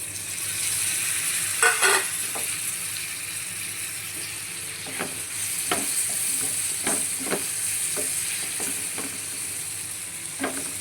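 Quail frying in a pan with spice powders and chopped tomato, a steady close sizzle broken by repeated scraping stir strokes, with no talking.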